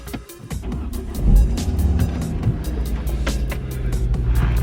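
A MK2 Ford Focus ST with a modified engine block starts up close by, with a brief crank then a firm rumble settling into a steady idle, accompanied by scattered light clicks.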